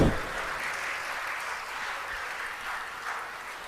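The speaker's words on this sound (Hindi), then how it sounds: "तालियां कुछ ज्यादा जोर से नहीं बजा रहे हैं आप।" Steady applause from a religious discourse audience gathered for a Pradosh devotional talk, a continuous even wash of clapping held at a constant moderate level throughout.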